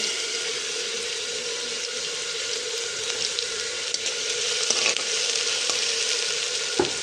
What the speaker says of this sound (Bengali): পেঁয়াজটা মোটামুটি ব্রাউন কালারের হয়ে গেছে।